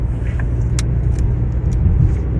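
Steady low road rumble from inside a moving car, a constant drone of tyres and engine with a few faint clicks and ticks on top, no talking.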